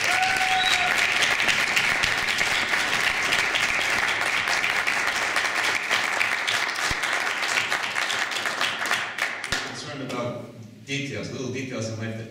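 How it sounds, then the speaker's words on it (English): Sustained audience applause at a round table conference on liturgical renewal, a thick, even roar of clapping that lasts about ten seconds, then drops away as a speaker's voice takes over. "we definitely have to give, a big hand of applause to Nikki Stavros"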